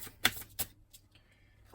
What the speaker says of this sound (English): Let me shuffle this.